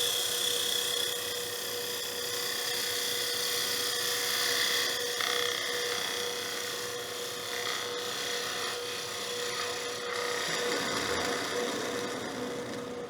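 A woodturning tool cuts across the rim of a wooden box spinning on a lathe, giving a faint, continuous scraping hiss with a steady tonal hum beneath and a slight shift in tone near the end.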